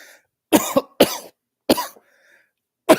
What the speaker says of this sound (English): sorry about the cough, y'all